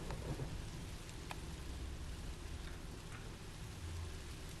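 Steady rain and deep rolling thunder from a night storm in a video game, heard as a continuous wash of rainfall with low rumbles underneath, muffled and dampened, with no voices.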